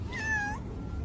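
A cat gives a single close, clear meow with a rising-then-falling pitch lasting about half a second, followed by quiet indoor room noise.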